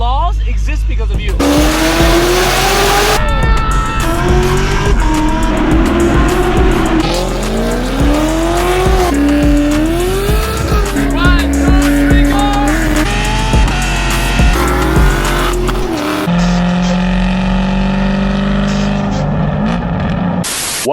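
A 600-horsepower sixth-generation Chevrolet Camaro SS 1LE with a very loud exhaust is driven hard through Miami, its engine revving up and down in sweeping pitch climbs and shifts, close and loud throughout, with tire noise.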